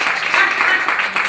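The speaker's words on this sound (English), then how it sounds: "I think that deserves a hand clap from the women." An audience at a talk on women's right to vote breaks into a short burst of hand clapping, steady and moderately loud, with no talk over it.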